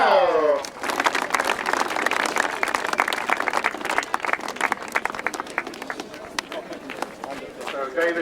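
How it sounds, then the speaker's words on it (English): Crowd applause at a grasstrack racing prize giving, sustained dense clapping from many hands that carries on steadily, with an announcer's voice talking over it. "keep the applause going"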